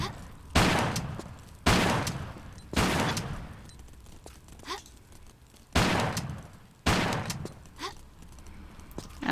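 Shotgun blasts in the Tomb Raider level editor game, fired at lizards in jungle ruins: five loud booming shots spaced about a second apart, each with a short echoing tail, plus quieter game sounds in between.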